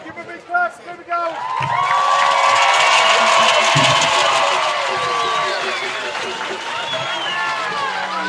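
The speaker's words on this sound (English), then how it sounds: "Come on, give a big clap." Loud, dense applause from a large crowd at the DanceRites 2023 dance competition finals, sustained for several seconds with cheering mixed in, after a few brief voices at the start.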